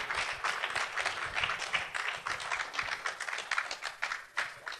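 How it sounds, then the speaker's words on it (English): An audience at an international legal conference gives a lifetime achievement award recipient a round of applause: dense, continuous clapping from many hands, steady and moderately loud from start to finish. "Special round of applause for Dr."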